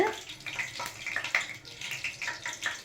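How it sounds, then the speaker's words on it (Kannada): Mustard seeds spluttering in hot oil mixed with ghee while tempering masala chitranna, a steady crackling hiss with irregular sharp pops throughout, close and fairly loud, with no talk. "ಸಾಸಿವೆ ಸಾಸಿವೆ ಸಿಡ್ತಾ ಇದೆ"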